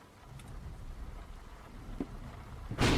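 Thunderstorm in a psychological horror video game: steady rain-like hiss runs throughout, then a loud, broad crack of thunder bursts in at the very end. No one speaks.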